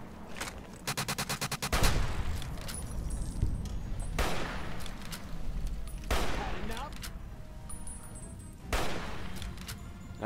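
Game gunfire in Fallout: New Vegas, with a fast machine-gun burst followed by several loud single shots and booming blasts spaced across the clip, under a player's talk.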